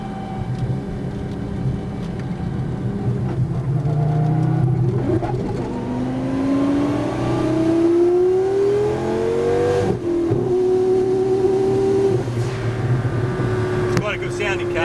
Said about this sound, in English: It's quite a good sounding car